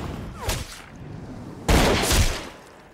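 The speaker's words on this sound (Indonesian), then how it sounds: "Lalu dia menantang Thomas untuk melakukan 1 kali tembakan 2 pembunuhan." Two sharp gunshots, a lighter crack early on and a much louder, fuller sniper rifle blast later that rings out with a trailing rumble.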